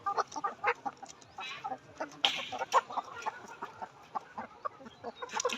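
Caged layer hens cluck steadily and close by, several birds overlapping in a busy, uneven chatter of short calls with a few louder squawks standing out.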